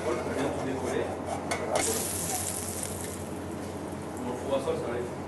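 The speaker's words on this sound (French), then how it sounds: "La poudre d'amande, je vais la cuire comme ça tout doucement pour l'amener à coloration." Almond powder toasts gently in a pan with butter, giving a soft, steady sizzle under constant stirring scrapes, close up and even throughout.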